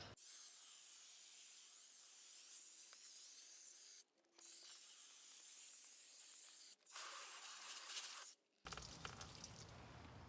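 A steady, loud hiss of water spray rinses a car during a winter wash, running continuously with two brief breaks before it cuts off to a rougher, closer splashing noise at the end.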